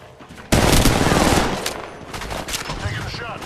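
Rapid automatic gunfire in the mobile shooter Apex Legends Mobile, a loud sustained burst that starts abruptly and then tapers off with scattered distant shots.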